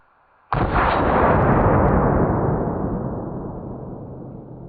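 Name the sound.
AK rifle gunshot through weighted blankets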